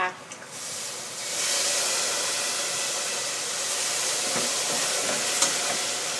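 Fish sauce poured into hot caramelized sugar in a pan sets off a loud, sustained sizzle and steaming hiss right after a few small clinks, holding steady and close for several seconds.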